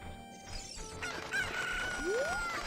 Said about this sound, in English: Damn sneaky chicken.